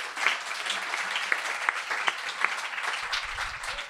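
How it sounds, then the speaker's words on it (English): An audience at a storytelling stage event gives warm, sustained applause, a dense wash of clapping with a few crisp individual claps ringing out, which fades slightly toward the end. "So with a big round of applause,"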